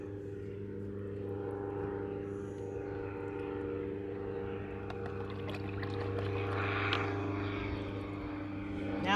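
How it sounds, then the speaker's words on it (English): A propeller airplane drones overhead beside a lake, a steady low hum that swells slightly toward the end. Outdoor ambience surrounds it, and no one talks. "Now we have a plane."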